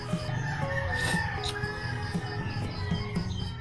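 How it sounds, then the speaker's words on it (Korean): Roosters crow repeatedly at dawn in the Philippine countryside, several calls overlapping at middle distance with clucking fowl in between and no one speaking. "아 지금 새벽부터 닭들이 울어가지고 자동 기상"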